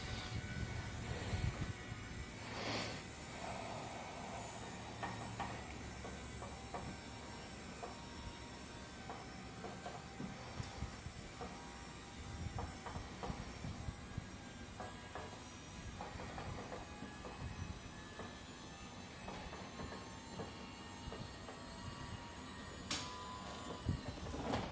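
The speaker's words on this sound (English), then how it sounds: "Once you hear the awning come in all the way, just let off the button." A 2020 Wildwood 22RBS travel trailer's electric awning motor retracts with a steady, continuous mechanical whir and hiss, running evenly throughout with occasional faint clicks and no talking.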